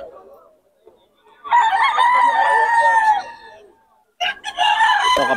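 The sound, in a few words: Pumpkin Hatch gamefowl rooster crowing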